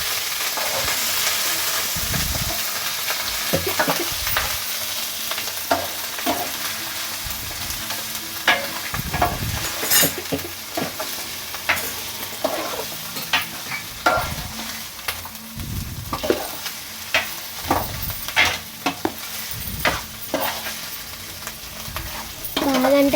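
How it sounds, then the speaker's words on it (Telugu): A paste of ginger, garlic, cumin and onion fries in oil, sizzling steadily while a utensil stirs it with repeated sharp scraping and tapping strokes against the pan. The sounds are close, clear and unaccompanied by speech. "వెల్లుల్లి, జీలకర్ర, ఉల్లిపాయ మిశ్రమాన్ని అన్నీ కూడా నూనెలో వేసుకోవాలి."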